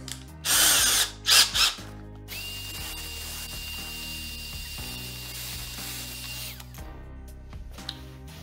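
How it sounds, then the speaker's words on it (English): A power drill drives pocket screws into a wood rail of a Shaker-style barn door, with a few sharp ratcheting bursts followed by a sustained whirring run and clicks, close and alone. "And go ahead and stick that in the drill."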